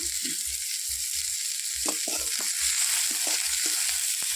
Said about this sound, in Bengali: পেঁয়াজটা মোটামুটি ভাজা যাচ্ছে